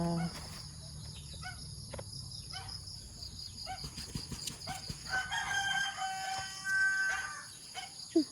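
A rooster crows a few times at a distance over a steady chorus of chirping insects and crickets in the evening, with faint background noise.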